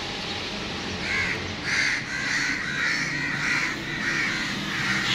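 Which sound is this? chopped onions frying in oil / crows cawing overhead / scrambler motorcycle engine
crows cawing overhead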